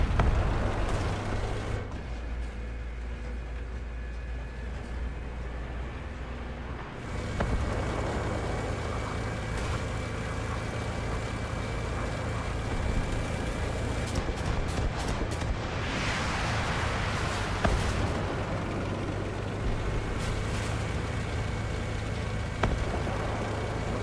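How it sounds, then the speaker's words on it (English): A Challenger 2 tank engine in War Thunder rumbles steadily with a low heavy drone, a brief dip partway through, then continuous loud running with faint mechanical clanks, no talking. "So you can hear an engine up here as we're coming around the corner."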